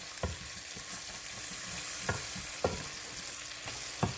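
Flour browns in a pot for beef stew with a steady close sizzle and frying hiss, punctuated by several soft scraping stirs of a utensil against the pot.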